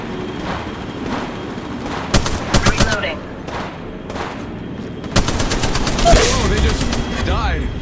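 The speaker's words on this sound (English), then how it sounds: "Opening fire." Gunfire in Apex Legends, with rapid automatic bursts and sharp individual shots, loud and close, mixed with game sound effects.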